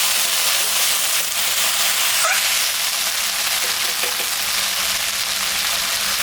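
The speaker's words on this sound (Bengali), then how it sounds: "এখন আমি একটু জল দিয়ে দেব।" Water poured into hot fried spice paste bursts into a loud, steady hissing sizzle that keeps going, while taro stolons and chapila fish are being cooked.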